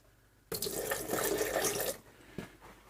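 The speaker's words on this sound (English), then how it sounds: "I'm just going to pour out a little bit more of that." Distilled water pours from a jug into a sink in a steady, splashing stream for about a second and a half, then stops, followed by a small trailing splash.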